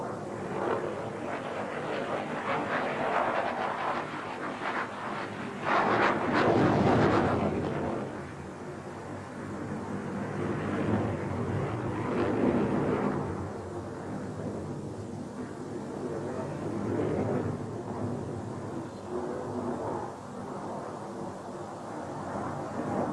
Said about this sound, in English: In spite of its size, the Su-27 is incredibly maneuverable.